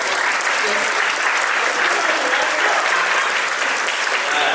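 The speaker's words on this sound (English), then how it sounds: "Let's give everybody a round of applause." At a panel discussion on fatherhood and mental health, the audience gives everyone a round of applause, loud, dense and continuous clapping throughout.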